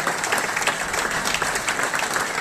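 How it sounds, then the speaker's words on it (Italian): A brief burst of close, dense clapping from the crowd at the 30th-anniversary ceremony of the El Bisato rowing club, steady and unbroken for the whole stretch. "bisogna fargli un applauso immediatamente"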